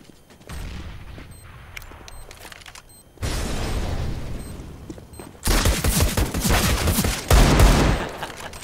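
CS:GO match audio: a grenade explosion bursts in loud and close, followed by sustained rapid gunfire and booming blasts that keep building toward the end, with no voices.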